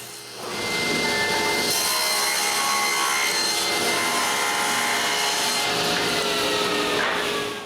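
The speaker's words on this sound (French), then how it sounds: "Je peux agrandir la rainure de la largeur du morceau d'érable." A tool cuts steadily into maple wood to widen a groove, giving a loud, continuous scraping and rasping that holds for several seconds with no voices.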